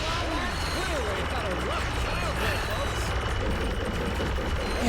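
Rapid, continuous gunfire from a weapon in Ratchet & Clank Up Your Arsenal on PS3, a dense crackling barrage with warbling game effects, loud and sustained for the whole stretch.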